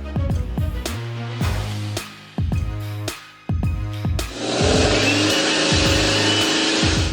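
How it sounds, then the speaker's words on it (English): A heavy logging truck corners on a downhill run, its engine revving and dropping in repeated rising and falling surges, then a loud broad roar of wind or road noise takes over near the end. "The downhill cornering maneuver by this truck exceeded all expectations."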